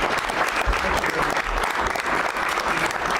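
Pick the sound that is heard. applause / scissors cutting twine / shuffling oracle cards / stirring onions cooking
applause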